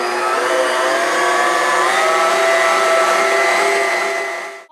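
A Bosch stand mixer kneads a large batch of bread dough with a steady, loud motor whine and a dense mechanical hum. The sound holds constant throughout and then winds down at the end.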